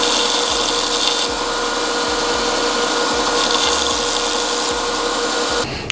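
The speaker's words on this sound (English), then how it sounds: "I'm just going to clean this up now with the belt sander" A belt sander smoothing the freshly hacksawed chamfer on a stud during an RB26 engine build, a steady loud abrasive whir with rhythmic low thumps throughout that cuts off abruptly near the end.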